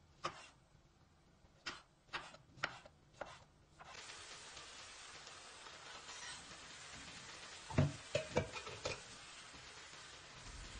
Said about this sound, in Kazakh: Осылай турап шығып, жаңағы табамыздың үстіне саламыз